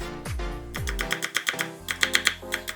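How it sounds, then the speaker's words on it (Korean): A run of sharp, evenly spaced knife chops dicing onion on a cutting board, quick and close, following a couple of low thuds at the start. "소스에 들어갈 양파 약간은 작은 주사위 크기로 잘라"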